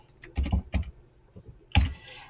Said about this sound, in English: I'm revising as I'm typing